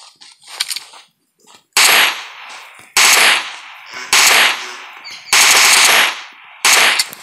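Loud gunfire in the mobile battle-royale game PUBG Mobile, fired in five or six sharp bursts with short gaps between them, close and dominant with no talk over it.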